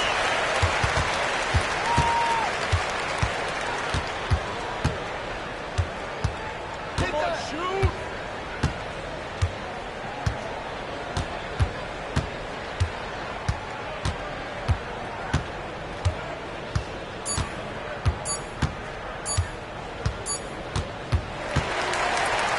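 Broad crowd applause and cheering swell through an NBA 2K25 arena as a basketball bounces in a regular dribble, with a commentator's voice talking over the noise.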